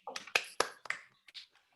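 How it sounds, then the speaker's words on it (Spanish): Scattered hand claps from a few people in an online talk with specialists, a handful of sharp separate claps followed by a couple of fainter ones, thin and close, with no talking. "un aplauso para todas"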